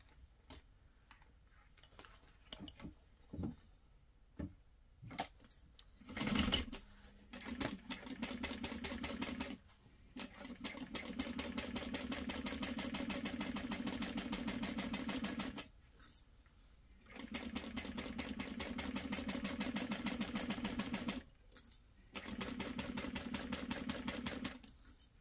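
Top stitching on a bag is done with a sewing machine. After some scattered clicks and handling knocks, three long bursts of rapid, even stitching play, each broken by short pauses.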